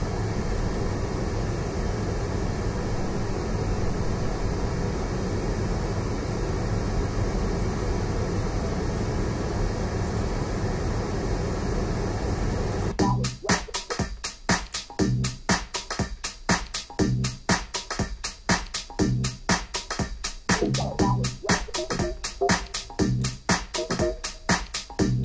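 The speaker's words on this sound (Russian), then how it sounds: "Сначала шум для установки уровней." Broadband test noise plays steadily through M-Audio M3-6 studio monitors during level setting, then gives way to a dense, rapidly pulsing rhythmic signal for the second half, loud and with no talk.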